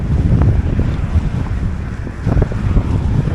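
Side wind buffeting the microphone on a road bike commute in a snowstorm, a steady loud low roar with gusty swells and no talking.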